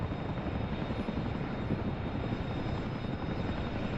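Chinook helicopter in the combat flight sim DCS World, a steady, loud rotor and engine roar filling the whole stretch with a dense low thrum and no voices over it.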